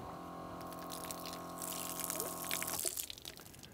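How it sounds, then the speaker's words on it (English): A camp shower on a four-wheel-drive setup runs water in a continuous close stream that builds slightly, then cuts off and trails into a few faint drips. "This is for shower."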